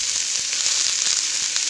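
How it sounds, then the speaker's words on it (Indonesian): Bean sprouts stir-frying in a pan with mustard greens, a steady close hiss of sizzling oil with faint soft clicks of stirring throughout. "Lalu kita masukkan toge."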